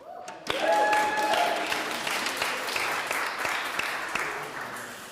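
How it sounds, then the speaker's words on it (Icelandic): An audience applauds orchestra percussionists after a Iceland Symphony Orchestra performance at a hospital, sustained clapping rising sharply then gradually thinning, with a few louder individual claps standing out. "Við skulum gefa þeim gott klapp."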